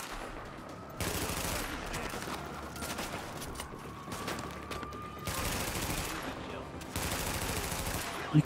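Blind-fire gunshots in The Division, repeated bursts of rapid automatic fire separated by short lulls, loud and close, over a low background game ambience.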